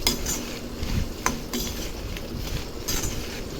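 Asafoetida powder being stirred into a dry pan of meal maker (soya chunk) podi, with soft spoon scrapes and light metallic clinks, steady and close, no voices.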